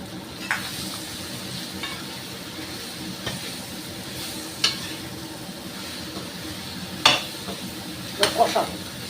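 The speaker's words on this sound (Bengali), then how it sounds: "কষাবো এই ঝিঙের সাথে মশলার সাথে বেশ একটু নরম নরম করে কষাবো।" Ridge gourd frying with spices in oil in a pan, a soft continuous sizzle with scattered sharper clicks and scrapes of stirring, a few louder clatters near the end, no talk.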